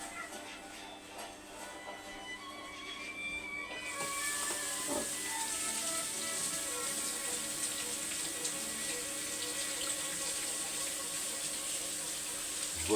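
Tap water runs in a steady hiss while ingredients are rinsed in a kitchen sink, starting softly and then gushing louder from about four seconds on, with no talk over it.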